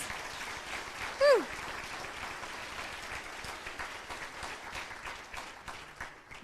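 An audience at an educational support professional of the year event applauds with a steady, fairly soft patter of clapping throughout. A brief whoop rises early, and one voice speaks a short exclamation over it.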